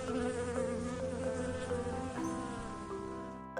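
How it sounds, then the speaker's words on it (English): A bee buzzing, a steady droning hum with a few slight shifts in pitch, fairly faint and heard alone over soft background music. "B for bee."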